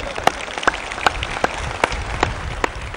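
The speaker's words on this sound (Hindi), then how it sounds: "भाई एक बार इनके लिए जोरदार तालियां बजा दो भाई।" An audience at a Patanjali Yogpeeth gathering claps loudly, with sharp, evenly spaced claps over a dense, continuous crackle of applause.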